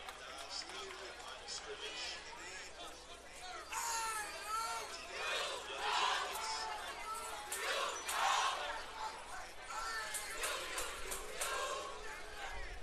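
A large crowd roars and cheers in a football stadium on a drizzly Saturday night, the noise swelling in waves with shouts rising above a steady distant murmur, and voices chattering throughout.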